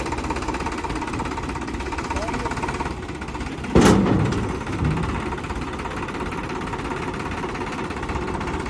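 A Sonalika DI 35 tractor engine runs steadily nearby at a village tire shop, a continuous rattling diesel drone with a brief louder burst partway through, while people talk.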